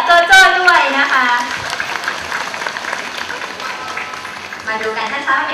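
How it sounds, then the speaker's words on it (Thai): An audience claps for Jojo the elephant after her painting show at the Thai Elephant Conservation Center in Lampang, a burst of close crowd applause mixed with a woman announcer's voice over a loudspeaker. "ขอเสียงปรบมือให้กับโจโจ้ด้วยนะคะ"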